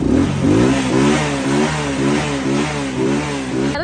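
A motorcycle engine, an old bike that has sat unused for months, revs hard in a loud, steady run of rising and falling pulses up close with no voices.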